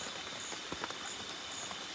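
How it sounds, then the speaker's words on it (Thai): A rainstorm in a forest during a hunting trip makes a steady wash of falling rain, with scattered drops tapping close by and a faint high whine underneath. "ฝนครับมาดูฝนพายุเขา"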